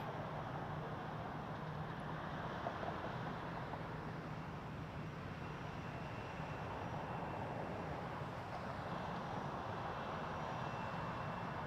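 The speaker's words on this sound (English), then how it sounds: "Max 8 with its nice long takeoff roll. Headed to Mexico City, Air Canada" Air Canada Boeing 737 Max 8 on its long takeoff roll at Toronto Pearson Airport, a steady distant jet engine roar holding evenly throughout, with no talking.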